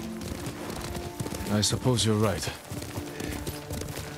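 Horse hooves clip-clopping steadily during riding in the video game Ghost of Tsushima, with a soft rhythmic beat under ambient sound while characters hold a quiet conversation.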